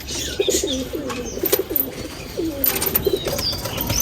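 Paired pigeons give repeated soft, rhythmic cooing calls close by, with a faint background of other birds and movement and no speech.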